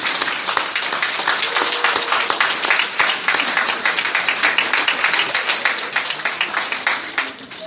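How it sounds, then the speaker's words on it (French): Sustained, lively applause from an audience at a live event in honor of a couple on stage, dense even clapping for several seconds with faint voices mixed in, tapering slightly at the end. "Je peux vous demander de les applaudir"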